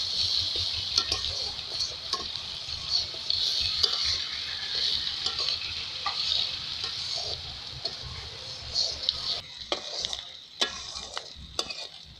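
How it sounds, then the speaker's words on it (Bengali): Onions fry in oil with broken green chilies, salt and turmeric, giving a steady, close sizzle under repeated scraping and stirring of a spatula against the pan, with a few sharper clinks near the end. "এখন আমরা পেঁয়াজগুলো ভেজে নেব"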